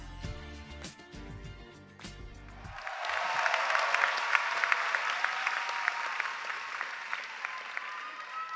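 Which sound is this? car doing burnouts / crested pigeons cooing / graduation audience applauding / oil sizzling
graduation audience applauding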